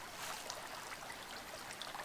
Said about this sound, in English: Streams running everywhere.